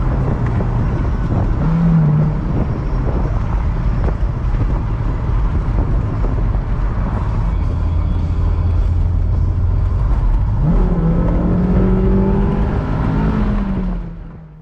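An MG TF sports car on a drive, its engine droning steadily from inside the cabin, with rising revs and a gear change near the end before the sound fades out.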